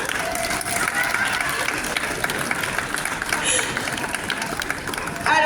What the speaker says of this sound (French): Allez, applaudissez-la.